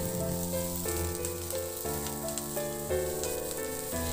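Onions sauté in a pan with a soft continuous sizzle, faint under background music with steady tones, no speech.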